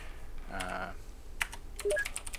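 Computer keyboard typing for a password entry in a game, a short run of quick keystrokes and clicks with some tonal game chimes layered over it, close and moderately loud.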